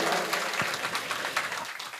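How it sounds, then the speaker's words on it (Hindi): A short burst of audience clapping during a Shrimad Bhagavat Katha religious discourse, soft and somewhat distant, a brief patter of hands over two seconds. "तो अपने लिए तालियां बजा दो"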